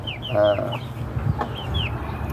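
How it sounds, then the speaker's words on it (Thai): Backyard chickens kept in a small 5 by 6 metre pen cluck and chirp nearby in short repeated calls, with one louder squawk early on and a steady outdoor background hum. "ไก่เฮาก็ประมาณนี้เด้อพี่น้องเด้อ"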